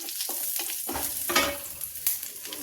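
Garlic sizzling in hot oil in a pan for lahsuni palak, a steady close frying hiss broken by several scraping stirs of a spoon against the pan, with no talking.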